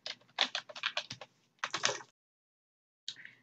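Password typed on a computer keyboard: two bursts of rapid, close key clicks, a brief pause, then a short final few taps.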